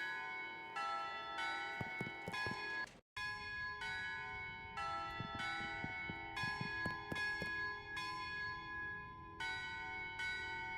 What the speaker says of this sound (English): They're doing Mary Had a Little Lamb on the church bells